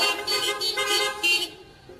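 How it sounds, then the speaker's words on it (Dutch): Horns tooted by an audience at a Dutch-language event: a quick series of bright, honking blasts in uneven bursts, moderately loud, dropping away near the end. "laat jullie toeters horen"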